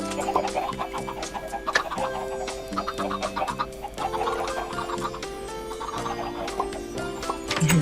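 Chickens in the video game Minecraft clucking repeatedly in short bursts over a steady melodic game music background, fairly close and with no speech.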